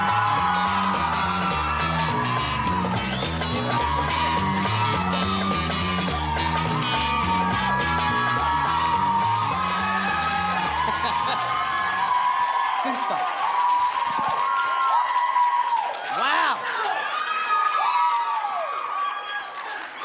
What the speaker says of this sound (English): Keep that applaud going.